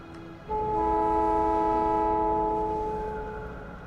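A Factorio train departs with a loud sustained horn-like tone that starts abruptly and holds for several seconds before slowly fading, set against steady rumbling factory ambience.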